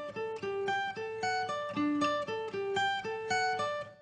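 An acoustic guitar picks a bright, flowing intro, notes ringing over one another in a steady rhythm, played clearly and alone.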